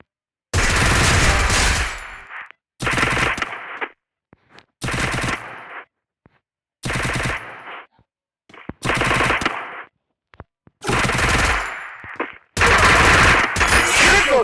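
Automatic gunfire in a shooter video game comes in seven loud, sustained bursts separated by short silences, each sharp and close with no talk over it.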